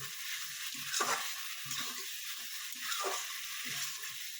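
Kalmi greens stalks sautéing with prawns in a pan, a steady sizzle and fry with occasional stirring scrapes, fairly soft and close, no talk.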